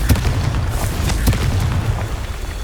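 Confringo fire spell explosions in the Hogwarts Legacy video game, a close, loud series of booming blasts and crackling bursts with several sharp impacts over a rumbling background.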